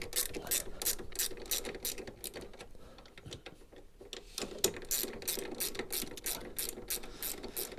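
Ratchet wrench clicking steadily as a bolt is undone on the running frame of a Royal Alloy GP300 scooter, a fast close rattle of pawl clicks in repeated bursts with a short pause midway, no talking.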